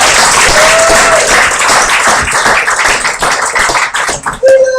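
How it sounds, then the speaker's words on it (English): A burst of audience applause and clapping fills the room at an open mic, loud and dense, tapering off toward the end. "One round of applause for Jennifer Love."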